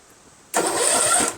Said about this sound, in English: Let's turn the key and see if it turns the engine.